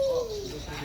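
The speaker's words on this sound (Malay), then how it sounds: "Sini ada burung. Burung pun ada." At Eco Venture Park in Semenyih, Selangor, a bird gives a brief soft cooing call like a dove, heard over steady outdoor background noise.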